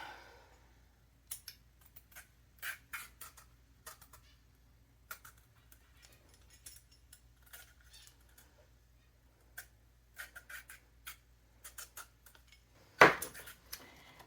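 A peeler scrapes a hard sweet potato squash in a home kitchen, sparse, quiet, irregular scratches and clicks with pauses in between and no talk.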